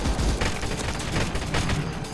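Dense, continuous video game gunfire in CROWZ with booming blasts and grenade explosions, loud and chaotic throughout, like a heated battle.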